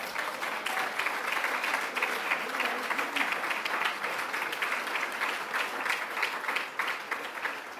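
Audience applause after a speech at the Planète République 2022 event, a steady, dense wall of many hands clapping that fills the room from start to finish without a break.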